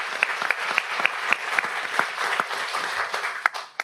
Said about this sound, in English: a big round of applause for everyone who competed this year